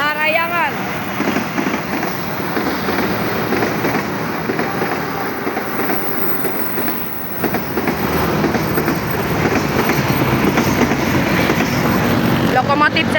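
A CC 206 locomotive hauling the Parahyangan passenger train rumbles past close by, a loud continuous roar of wheels and carriages with rhythmic clatter that swells toward the end; voices can be heard beneath the noise.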